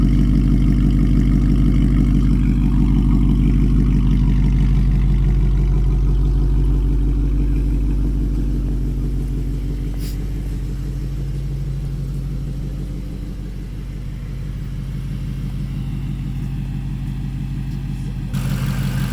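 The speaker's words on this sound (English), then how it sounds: "Beautiful exhaust note." A supercharged 2016 Ford Mustang Roush Stage 3 rumbles with a deep, steady idle, close and loud throughout, easing slightly in the middle before building again, with no talk over it.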